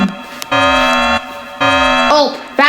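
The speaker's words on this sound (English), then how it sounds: "Oh, that's the fire alarm." School fire alarm ringing in loud, long electronic buzzing bursts with brief gaps between them, as a voice speaks over the end.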